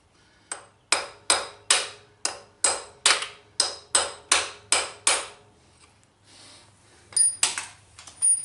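A hammer striking a metal center punch to mark holes for drilling on a milling machine, about eleven sharp ringing taps in a steady rhythm, followed by a pause and a few scattered metallic knocks.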